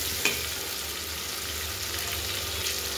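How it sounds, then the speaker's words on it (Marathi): Onion fries in a pan, a continuous close sizzling hiss with a faint click near the start and no talk over it. "तर बघा मस्त कांदा फ्राय होतोय, मस्त कांदा फ्राय करून घ्यायचा आपल्याला गुलाबी कलरमध्ये।"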